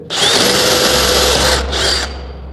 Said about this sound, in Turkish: 650'den 2000 devirde ben bu deliği delmek istediğimde farkı şimdi görelim.